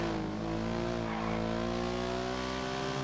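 A car engine drones in GTA V with a steady, sustained tone and rich harmonics that hold an even pitch, loud and close, with no talking over it.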